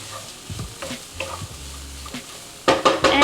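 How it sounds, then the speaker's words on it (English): Garlic is stirred in a frying pan while making chicken croquettes: scraping utensil strokes over a light sizzle, then louder stirring and frying near the end, with no talk. "I'm just gonna give this a few more stirs here"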